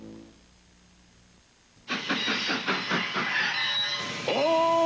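A train sound effect from a 1983 Saturday-morning cereal commercial: a sudden loud start, then rhythmic clickety-clack rail beats rolling steadily, ending in a bright whistle-like tone, with no talking.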